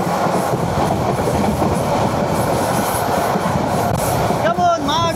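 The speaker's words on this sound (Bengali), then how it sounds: "দিয়ে যাচ্ছে আমাদের ট্রেন।" A passenger express train runs steadily along the rails through open fields and woodland, its loud continuous rumble and wheel clatter close by, with a brief wheel squeal rising near the end.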